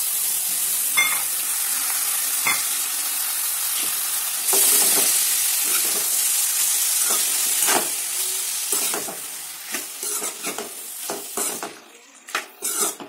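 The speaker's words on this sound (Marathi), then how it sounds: "आता पोहे त्यात टाकून द्यायचे." Soaked poha tossed into a hot pan of tempering for a home-style poha recipe, giving a steady close sizzle and frying hiss with stirring scrapes, the sizzle surging when the flakes land and then settling into intermittent clatter of spoon against pan.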